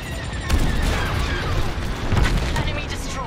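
Enemy starfighter blown apart in the Star Wars: Squadrons space combat game: a dense, rumbling barrage of blasts and rapid laser fire that stays loud and continuous throughout.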